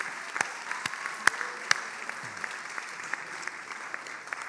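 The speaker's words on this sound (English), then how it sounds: "let's give our MITs a big round of applause and thank them for all their efforts this semester" Scattered applause rises from the audience at the HTMi graduation ceremony in winter 2017, a thin, moderately distant patter of hand claps with a few sharp, louder claps standing out.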